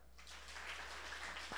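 An audience claps to vote for a headline, a soft, steady patter of applause at a distance that swells slightly before ending.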